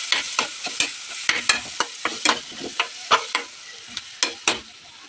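Cooked brinjal (eggplant) stirred into a sizzling pan of peas masala, a steady frying hiss punctuated by repeated scraping stirs of a spoon against the pan, close and alone without speech.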